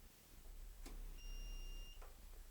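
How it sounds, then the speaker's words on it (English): An off-grid power inverter starting up: a short electronic beep, then a steady two-tone tone for about a second, ending in a soft click of its relays engaging; faint background hum, no talking. "you'll hear a click inside this inverter, which is all the relays kicking in"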